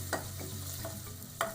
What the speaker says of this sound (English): I'm going to mix it together a little bit